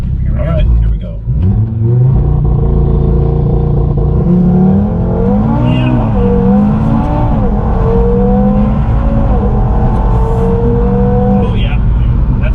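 A boosted 2022 Audi TT RS accelerating hard, its engine note climbing steadily and loudly through the revs in one long pull from inside the car, with a voice speaking over it.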